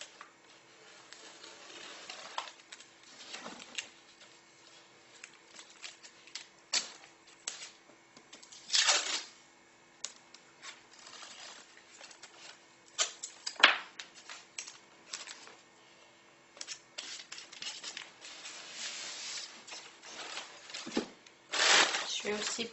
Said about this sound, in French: je vais la protéger avec du scotch que je vais appliquer comme ça tout autour de la partie en couleur